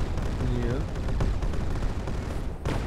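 Tank cannon fire in the video game Brick Rigs, with several booming shots in succession, including a sharp blast near the end, under busy game noise.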